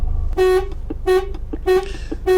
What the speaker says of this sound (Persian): بسیار خوب صدای بوق